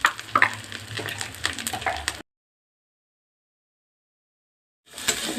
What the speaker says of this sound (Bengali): দিয়ে ভালো করে নেড়ে চেড়ে নিতে হবে